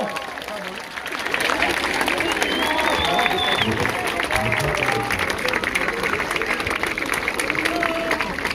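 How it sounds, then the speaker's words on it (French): A festival crowd applauds a Breton dance circle from Saint-Malo outdoors, a dense, steady wash of clapping that swells after a moment and holds loud and continuous, with faint voices and a few cheers mixed in. "Applaudit très très fort le cercle qui campagne de Saint-Malo"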